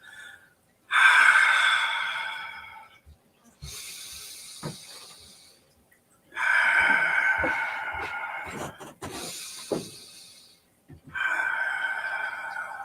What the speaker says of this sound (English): With an audible exhale, punch one fist forward.